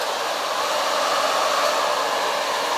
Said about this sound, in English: So I did get myself a hairdryer